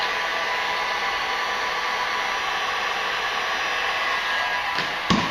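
A heat gun warms vinyl composition tile with a steady, loud, even blowing hiss and no pauses, followed by a short knock near the end.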